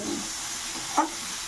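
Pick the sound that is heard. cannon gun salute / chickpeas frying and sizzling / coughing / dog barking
chickpeas frying and sizzling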